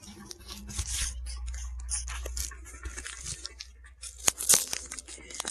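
Paper envelope from a hospital torn open by hand, a few close ripping and crinkling bursts with rustling in between, then a louder sharp tear near the end, with no talk.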